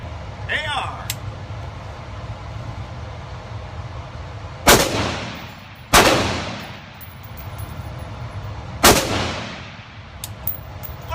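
AR rifle firing three loud, booming shots spaced a few seconds apart, each with a sharp crack and a ringing tail, heard outdoors over steady background noise.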